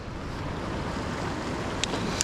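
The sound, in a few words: wind picking up at the sea coast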